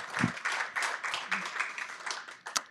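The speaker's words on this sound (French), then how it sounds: "applaudissez-les bien fort." Audience at an ice sports federation round table in Montpellier claps steadily throughout, with a mix of voices over the applause and a sharp louder clap near the end.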